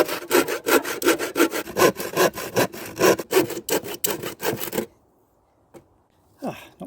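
Handsaw cutting a piece of wood for a bee shed, about fifteen quick rhythmic rasping strokes close up, then stopping into near silence with a light knock and a brief rustle.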